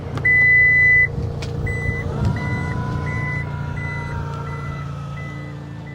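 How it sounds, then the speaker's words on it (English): A 2025 Toyota Land Cruiser Prado 250 beeps repeatedly as its powered tailgate closes, a regular series of loud, evenly spaced electronic tones over a low motor whir and a slowly rising hum. "I shall try and close the boot, which will result in more bing bong beep"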